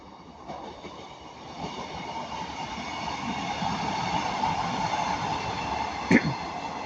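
A Class 150 diesel multiple unit passes at Ardwick, its steady rumbling roar building gradually over several seconds with faint rail hum, plus a single sharp clunk near the end.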